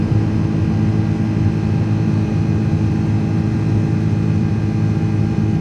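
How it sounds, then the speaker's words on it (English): Steady, loud roar of an iniBuilds A330's jet engines climbing out after takeoff in Microsoft Flight Simulator 2024, a continuous low rumble with no talk over it. "Now you hear the engines."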